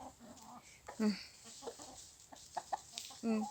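Chickens cluck in soft, scattered bursts nearby, a few louder clucks standing out above a quiet outdoor background.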